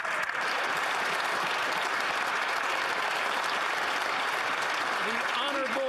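Loud, sustained applause in the Canadian House of Commons fills the whole stretch, with voices emerging as the clapping fades at the end.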